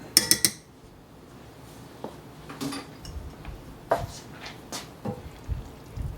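Spoon clinks and scrapes against a pot while ragu with Calabrian chilies is stirred, a few sharp taps at first, then scattered softer knocks and stirring sounds in a quiet kitchen.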